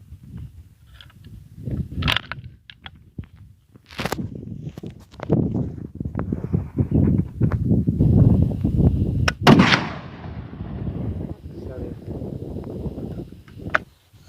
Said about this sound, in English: it shoots pretty well with 303.